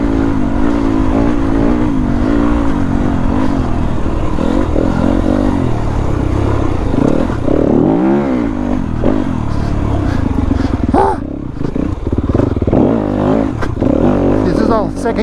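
A Yamaha WR250F dirt bike engine holds second gear, its buzzing drone rising and falling with throttle changes and a brief dip as it slows. A voice talks over the engine throughout.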